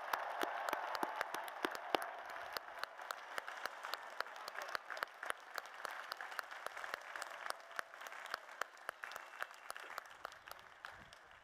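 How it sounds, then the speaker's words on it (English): Sustained applause from a large commencement crowd honoring graduate degree candidates at a spring university ceremony, a dense steady patter of many hands lasting throughout at moderate distance. "Let's give them a huge round of applause."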